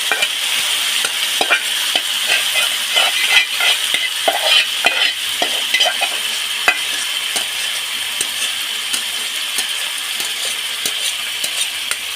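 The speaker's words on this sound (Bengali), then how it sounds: "তো এর মধ্যে এখন আমি চিকেনটা ঢেলে দেবো" Marinated chicken poured over browned onions in a frying pan, crackling loudly and close with an even hiss, punctuated by brisk repeated scraping stirs throughout.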